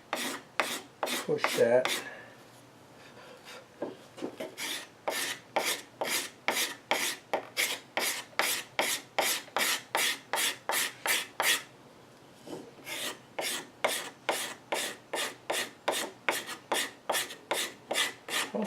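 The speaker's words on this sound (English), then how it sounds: "the nice thing with using the scraper is you can hold it with one hand and the other hand's free" A hand scraper shapes wooden legs in quick, even rasping strokes, about two per second. Near and crisp, with a short pause midway before the rhythm resumes; one brief spoken phrase early on.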